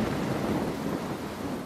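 A storm at sea buffets the container ship Atlanta, with steady heavy rain and a low thunder rumble filling the scene without pause, and no voices.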